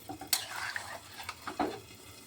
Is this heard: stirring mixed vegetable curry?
yes